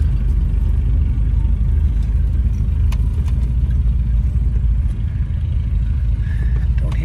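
A 1971 Volvo 144 S rolls over loose blacktop, its engine a steady low rumble with constant road and tire noise close inside the cabin, and someone talks briefly over it.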